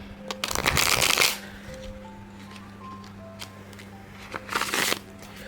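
Tarot cards are shuffled in two brisk, close bursts of riffling separated by a quiet pause, with a faint steady tone in the background.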